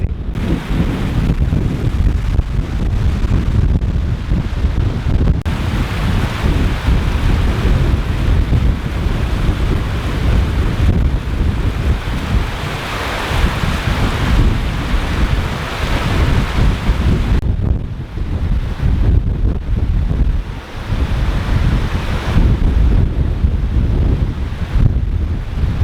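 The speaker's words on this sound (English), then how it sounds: "Oh, the wind is crazy." Strong wind on a hiking trail near Clark, Wyoming, gusting hard against the microphone in a loud, continuous roaring buffet that rises and dips over the whole stretch, with no talking.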